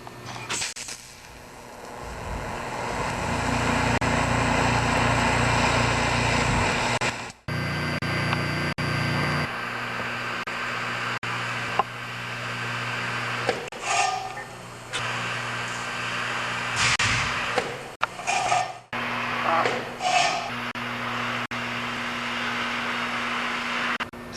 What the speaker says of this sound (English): I think we're good to go lay a few beads down now